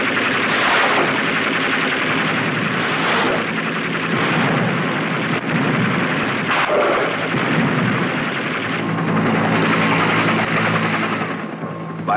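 Navy SEAWOLF helicopter gunships firing machine guns over a jungle river, a steady loud roar of gunfire and rotor noise with rapid bursts running throughout, distant and dense rather than sharp.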